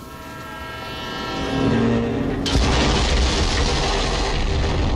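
A train in the video game Borderlands 3 rumbles steadily, with a horn-like tone early on, then swells louder into a dense, roaring rush of wheels and rail noise with no voices.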